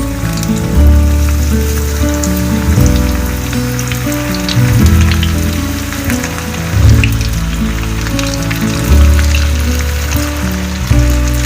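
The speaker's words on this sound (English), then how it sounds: "Now I'll be frying these coated chicken pieces on medium to low flame." Coated chicken pieces frying in oil over a medium-low flame, a loud continuous sizzle and crackle close up, with periodic low clunks from the pan, no talking.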